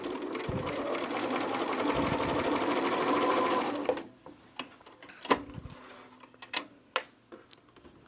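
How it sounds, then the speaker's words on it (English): A sewing machine stitches a seam with back stitching, a steady close mechanical whir for about four seconds, then stops, followed by scattered clicks and taps. "I'm going to reinforce my seam a little by back stitching"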